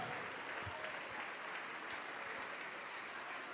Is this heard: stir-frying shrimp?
no